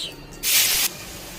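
Bay leaves and cumin seeds hitting hot oil in a pan, a sudden loud sizzling hiss that holds steady for about half a second and then cuts off, with a faint quieter background before and after.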